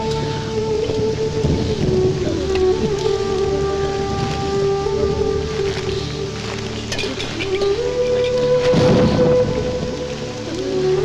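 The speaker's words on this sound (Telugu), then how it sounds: "ఇప్పుడు అర్ధంతరగా ఈ వర్షం పట్టుకుంది" Heavy rain pours steadily, with low rumbles of thunder, in an indoor film scene at night. The downpour holds throughout beneath sustained background music tones.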